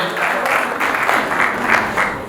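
A crowd at a Bhojpuri Industry Premier League player auction breaks into loud, close applause for the team captain, dense clapping that swells in small bursts throughout.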